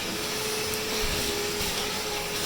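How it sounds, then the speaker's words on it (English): A vacuum cleaner runs steadily throughout, a continuous broadband whine and roar with a faint tonal hum, close and unbroken, used in a car during sound-deadening work. "you're not going to vacuum like I'm going to vacuum"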